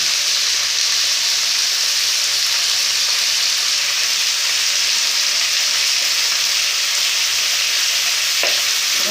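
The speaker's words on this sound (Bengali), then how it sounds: "আমাদের আলু ভাজাটা প্রায় হয়ে এসছে" Potatoes for aloo bhaja fry in a pan, giving a steady, loud broadband sizzle that runs evenly throughout with no talking and only a faint knock near the end.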